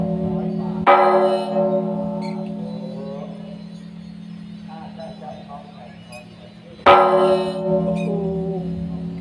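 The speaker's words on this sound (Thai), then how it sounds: "มาตีระฆังหน่อยนะคะ" A large temple bell is struck twice, each hit ringing out loudly and humming as it slowly fades, with people talking in between.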